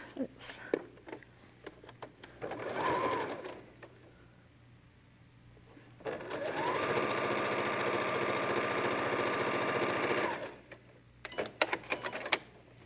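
A home sewing machine stitches a quilt seam for a Dresden plate block in a steady mechanical hum lasting several seconds, with a shorter run before it, soft handling clicks around it and some talking.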